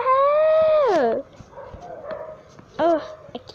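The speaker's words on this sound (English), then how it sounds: "Some dog is barking in the distance." A single dog in the Roblox game Escape The Pet Store Obby gives a loud drawn-out whine or yelp followed by a shorter bark-like call, with a faint stretch between.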